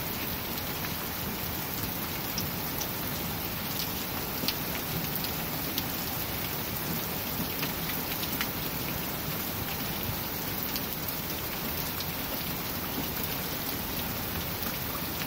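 Steady, dense rain falls during a thunderstorm, a continuous even patter on surfaces with scattered sharper drops, with no talking.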